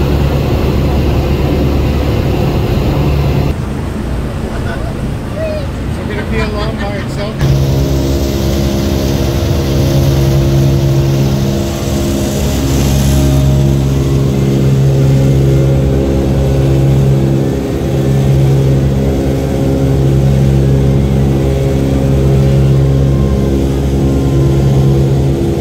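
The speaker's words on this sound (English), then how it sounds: "That harmonic rumble in the airplane?" The four piston engines of a B-29 Superfortress drone inside the cabin at climb power, with unsynchronized propellers giving a steady rumble that pulses in a regular beat. Crew voices come through faintly under the noise.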